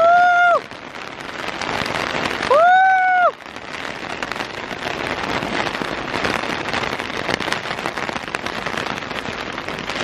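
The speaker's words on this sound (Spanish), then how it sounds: "Mirad cómo cae por ahí el agua. Qué fuerza." Heavy rain pours down forcefully, a dense close hiss of water running steadily throughout, with two brief whistling or squealing tones near the start.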